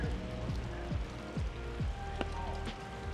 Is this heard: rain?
yes